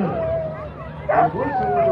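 Sled dogs at the start of the Fur Rondy sled dog race in Anchorage, Alaska, let out excited close yips and whines over a crowd murmur, with a louder yelp midway through.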